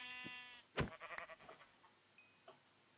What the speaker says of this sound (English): A sheep. I need it.